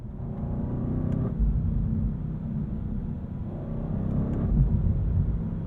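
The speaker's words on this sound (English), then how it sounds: "Oh, I love this engine." A 2023 BMW M850i Gran Coupe's engine pulls hard under acceleration, a steady, loud rumbling drone that swells slightly near the end, heard from inside the car with no talking.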